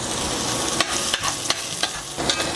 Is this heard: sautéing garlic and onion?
yes